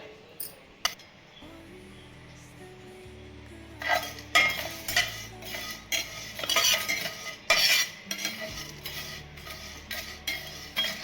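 Whole spices for mango pickle being lightly roasted in a pan, with a spoon scraping and clinking against the metal in irregular bursts over a faint low hum.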